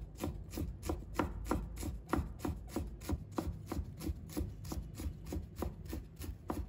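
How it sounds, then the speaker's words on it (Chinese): A knife chopping a peeled piece of fresh ginger into mince on a board, close and steady rhythmic chops repeating about three times a second, with no talking. "再准备1块去皮的生姜，把它切成片， 再改刀切成丝， 然后切成末。"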